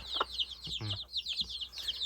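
A hen clucks in short bursts close up, set against a steady chorus of high chirping from other birds.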